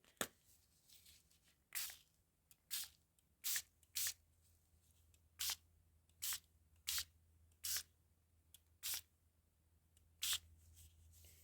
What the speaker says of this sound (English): this is food colouring mixed with water, just in a wee mini spray bottle